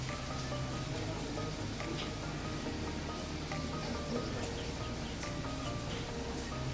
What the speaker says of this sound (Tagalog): Maulan lang ng panahon.